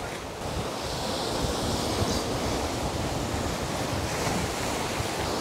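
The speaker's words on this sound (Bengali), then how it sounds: "দেখেছেন এখানে এসে জলটা আছড়ে পড়ছে।" Sea waves crashing on the shore at a viewpoint in Diglipur, North Andaman, a dense, steady roar of surf mixed with wind buffeting the microphone.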